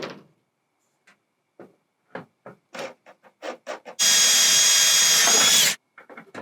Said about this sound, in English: I actually recommend using a 9/64 drill bit just to pre-drill that hole